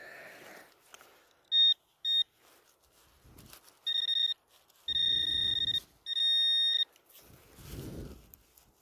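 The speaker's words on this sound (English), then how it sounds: "Good thing I got a metal detector." A metal detector sweeps over a target in snow while hunting for silver coins and relics, giving a series of short, shrill electronic beeps of varying length, some paired, between quiet crunches and faint rustling.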